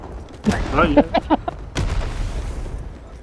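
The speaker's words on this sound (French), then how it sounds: "J'ai vidé le chargeur." A video game skirmish fills the background with rapid gunfire as a magazine is emptied, short bursts and pops under a voice, followed by a dull boom.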